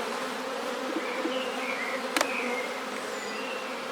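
Honey bees buzz densely around a hive after being shaken onto new foundation frames during a shook swarm, a steady close droning hum with a brief clack midway.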